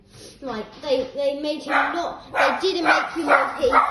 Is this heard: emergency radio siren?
no